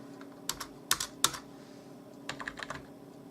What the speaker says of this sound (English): So we're just going to test the keyboard and make sure that works.